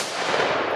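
A weak, dud-like firecracker burst from an Explosiv Show / Viper Strike 2G firework, heard as a brief, loud, broadband hiss-crackle with no clear sharp bang.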